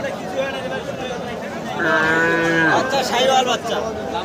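A cow lets out a long, loud moo partway through, over a busy background of crowd chatter and people talking nearby at a cattle market.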